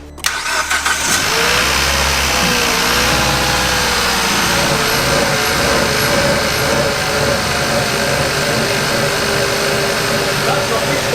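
A Kia Ceed GT engine cranks and catches, then settles into a loud, steady idle close by, with voices talking over the running engine.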